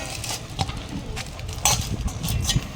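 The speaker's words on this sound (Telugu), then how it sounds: "ఐదు నిమిషాల పాటు ఇలా కలుపుకోవాలి." Madata kaja mixture being stirred in a vessel, with a spoon scraping and clinking against the sides in an uneven rhythm, close and fairly loud.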